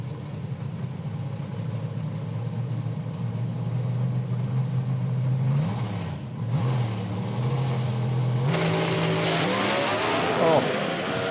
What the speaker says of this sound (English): Great drag race.